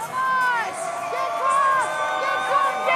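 A stadium crowd cheers at a Legends Football League game in Las Vegas, a steady roar of voices with whoops and shouts rising and falling, fairly loud and continuous.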